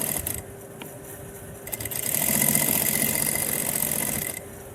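Sewing machine running a hem stitch along the turned-in edge of a palazzo trouser with buckram, a steady close mechanical whir that picks up speed and loudness midway before cutting off near the end, no talking.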